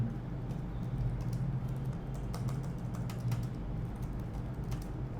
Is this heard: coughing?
no